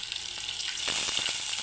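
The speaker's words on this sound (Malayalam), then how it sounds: "നമുക്ക് വറ്റൽമുളക് കൂടി ഇട്ട് കൊടുക്കാം" Dried red chillies drop into hot oil with popping mustard seeds, a steady hiss that grows into louder crackling sizzle and spatter close by.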